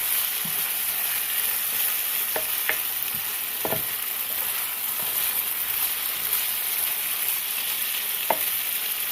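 Ground beef with brown sugar sizzles in a frying pan while a spoon stirs it, steady hissing fry with a few scraping stir sounds, close and continuous without talk.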